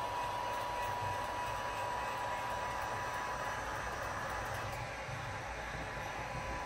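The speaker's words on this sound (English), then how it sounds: "you're going to want to hit it with a heat gun just to make sure it sets correctly." Heat gun blowing steadily to set dark smoke amber tint film, a continuous broadband airy roar that holds level for the whole stretch with no talk over it.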